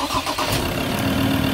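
A 4x4's engine starts up close by, a brief rough burst of cranking and catching that quickly settles into a steady running idle.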